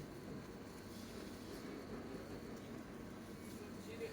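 Faint, steady rumble inside a London Overground train running between Cheshunt and Liverpool Street, a low continuous roll with no clear voices.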